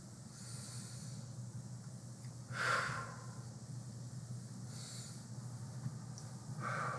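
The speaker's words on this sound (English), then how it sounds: "Deep breaths here." Slow, deep breathing during a seated desk stretch: soft airy inhales and exhales, close and fairly faint, over a steady low background hum, with no talking.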